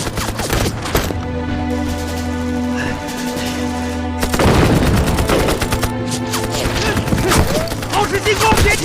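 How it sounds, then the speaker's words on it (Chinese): Dense gunfire from a war drama battle scene, rapid overlapping shots and bursts layered with a steady background hum, loud and continuous throughout with a heavier surge partway through. "射击！"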